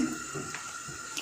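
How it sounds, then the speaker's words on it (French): Cooking oil pours into a pan for a snail sauce, a faint steady trickling stream in a quiet kitchen. "nous allons mettre un peu d'huile"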